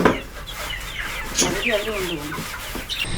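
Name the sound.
chickens clucking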